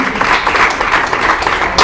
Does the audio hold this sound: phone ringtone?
no